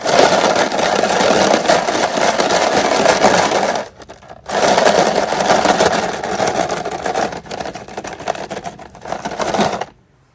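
Bolts are cleaned of old RTV gasket sealer during a Pontiac Firebird build, giving a loud, continuous whirring scrub that pauses briefly partway through, resumes, and then cuts off just before the end.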